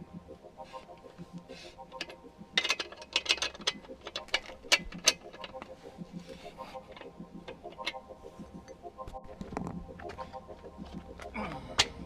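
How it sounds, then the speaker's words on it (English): Spanner work on the wheel hardware of a Honda CB500X adventure-bike build: repeated metallic clicks and ratcheting taps with clanks of tools, close by and irregular, with some voice in the background. "we can demo these handy dandy new spanners from Rally Raid"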